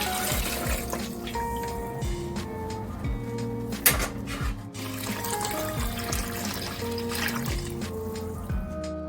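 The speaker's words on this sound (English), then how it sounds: "Add the water to about a half of the ham." Tap water runs and pours into a cooking pot over a ham, a steady splashing stream close by, broken by clanks and bumps of cookware, with no talking.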